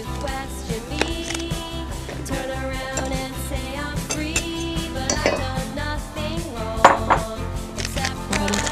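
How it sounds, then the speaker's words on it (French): Utensils clink and scrape against a bowl while eggs, sugar, flour and baking powder are mixed for a nougat-raspberry cake batter, the stirring steady and close, with a sharper knock near the end. "Donc on mélange quand même un certain temps pour bien mélanger les œufs avec le sucre"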